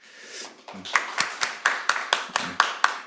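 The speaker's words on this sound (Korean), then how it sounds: "우리 환영의 박수로 맞이해 주시겠습니다" Welcoming applause from a church congregation during a Sunday service: distinct, evenly spaced claps in a steady rhythm, building after a soft start, with a brief voice early on.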